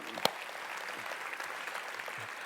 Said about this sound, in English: Yeah, let's applaud that.